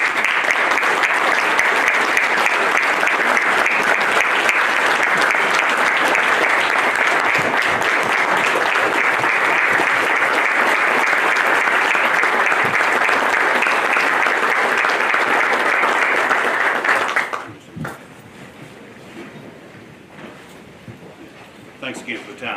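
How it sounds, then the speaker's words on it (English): A county commission meeting audience gives a long, loud round of applause for uniformed officers, sustained and dense before stopping abruptly, with faint room sounds and brief murmurs afterward. "I just want to give them a big round of applause and recognize them today."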